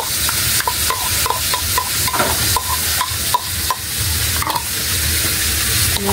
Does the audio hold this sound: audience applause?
no